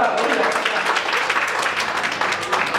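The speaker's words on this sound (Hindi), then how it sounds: "तालियां बजाई जाती हैं।" Brief burst of applause from an audience at a Hindi poetry recital, fairly loud and dense clapping with voices mixed in beneath it.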